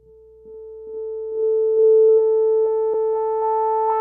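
Broken Mini free synth plugin sliding up in pitch in distinct audible steps rather than a smooth glide, a steady tone with stepped clicks, fairly loud and alone with no talk.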